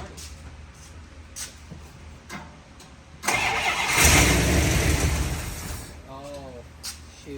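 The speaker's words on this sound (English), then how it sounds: "You just breathe on the key and it'll start." A Dodge D100 truck engine catches after a few quiet seconds with faint voices nearby, roaring loudly to life, then settling into a lower running rumble before easing off near the end.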